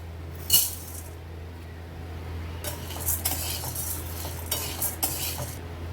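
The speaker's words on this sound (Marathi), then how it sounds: "तर आता आपण भाजून घेणार आहोत हरभऱ्याची डाळ." Chana dal being dry-roasted in a pan for chakli flour, heard as a utensil scraping and stirring the lentils in scattered bursts against a low steady hum, with no one talking.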